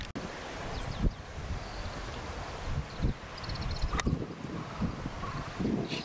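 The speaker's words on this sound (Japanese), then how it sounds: "かなりフォローで吹いてます。" Wind blows across an outdoor golf course as a steady rushing roar against the microphone, with a few soft thumps and gusts rising and falling and no talking.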